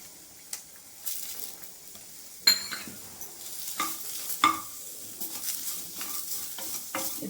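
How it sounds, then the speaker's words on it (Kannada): Curry leaves fried in hot oil in a pan while making traditional urad dal chutney, with crackling sizzle and bursts of popping alongside stirring clinks, up close. "ಇದು ನೋಡಿ, ಕರಿಬೇವು ಹಾಕೋತಾ ಇದ್ದೀನಿ"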